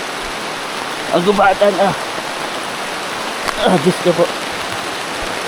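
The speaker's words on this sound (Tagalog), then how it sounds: "Lakas ng ulan." Heavy rain pours steadily on a forest, a dense continuous hiss throughout, while a voice breaks in twice with short exclamations.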